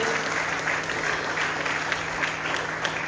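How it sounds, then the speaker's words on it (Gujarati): An audience at Bilimora International School applauds Swamiji with a loud, sustained wash of many clapping hands that stays even throughout, with no voices over it. "સ્વામીજી માટે એક વખત જોરદાર તાળીઓ"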